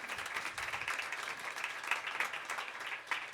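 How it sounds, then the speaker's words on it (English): An audience at a women authors' event applauds, a dense patter of many hands clapping at once, steady and fairly faint across the whole moment. "Big round of applause for Patty and Lonnie."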